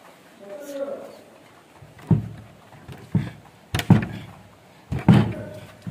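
A tight house door, swollen from the rain, is unlocked and forced open, giving four or five sharp knocking thuds and scrapes at irregular intervals, close and loud, with voices talking between them.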